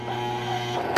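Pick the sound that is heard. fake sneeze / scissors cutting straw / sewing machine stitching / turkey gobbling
sewing machine stitching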